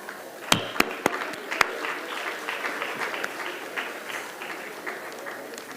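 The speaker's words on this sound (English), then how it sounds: "please join me in welcoming our Minister again with a round of applause" An audience at a donor-honoring evening applauds a government minister, with a few sharp near claps at the start, then a dense, even wash of clapping at moderate level.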